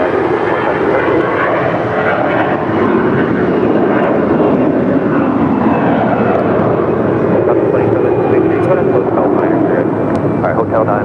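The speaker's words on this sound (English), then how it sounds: "we do have Alaska Airlines Flight 1108 heading to Dulles now, rolling down 25 right" An Alaska Airlines jet rolls down runway 25 right at LAX for takeoff. A loud, continuous engine roar fills the whole stretch, with air traffic radio voices talking over it.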